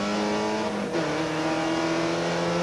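Porsche 944 race car engine in a 1986 Canadian Rothmans Porsche 944 series race, a loud sustained drone held near with a brief dip as the pitch shifts between gears.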